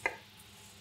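A single sharp knife cut through a lime on a cutting board, a brief close crisp chop at the start followed by quiet room tone.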